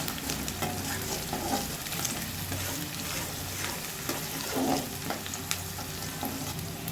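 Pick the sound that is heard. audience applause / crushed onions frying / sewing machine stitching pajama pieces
crushed onions frying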